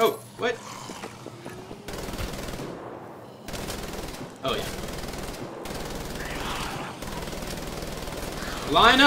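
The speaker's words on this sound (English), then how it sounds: "get our giant machine gun" A giant machine gun in the shooter Wolfenstein: The Old Blood fires in loud, sustained bursts split by brief pauses, close and dense, with a voice talking between and over the volleys.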